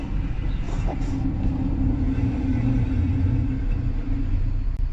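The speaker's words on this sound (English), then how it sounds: "your brake pads are probably worn out and it's rubbing on metal" Worn brake pads grinding against metal on a 2005 Lexus RX330, a steady, loud, continuous low scraping rumble with road noise throughout, no pauses.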